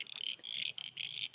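Crickets chirp beside water along a mountain road, giving quick, bright pulsed trills in short bursts that are fairly faint and heard on their own.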